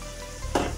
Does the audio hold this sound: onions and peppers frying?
yes